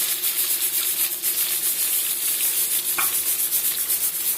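Black pepper, cumin, onion, dried red chillies, curry leaves and garlic sauté in hot oil with a continuous close sizzle that rises and falls a little, broken by one brief clink partway through.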